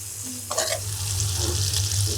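Masala spices and potatoes sauté in a pan, giving a steady close sizzle and frying hiss with a brief scrape of stirring near the start, with no talk.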